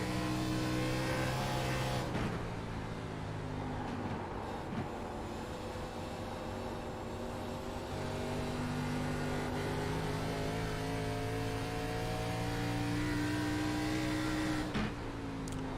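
Hank Caston's number 36 race car on track, a continuous loud engine whine rising and falling through gear shifts, with brief sharp changes near the start and end, unaccompanied by speech.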